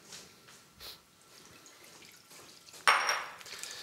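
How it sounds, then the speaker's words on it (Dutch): Mushrooms rinsed under a running kitchen tap, a short burst of splashing water starting near the end after quiet kitchen clatter and faint drips. "Ik zal die champignonnetjes hier eens een douche geven."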